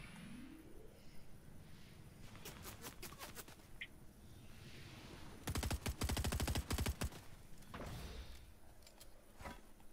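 Gunfire rings out in the video game Fortnite: scattered single shots, then a dense rapid burst of automatic fire, followed by a few more isolated cracks, all fairly distant and faint.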